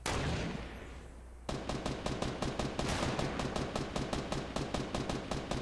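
Video game gunfire: a rapid, even burst of automatic shots rattles off in a steady rhythm after a brief lull of hissy noise, fairly close and loud, with no voices.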